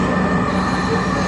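A metro rail train runs at speed, a steady loud rumble of wheels on track with a bright high squeal riding over it, continuous and close from inside the carriage.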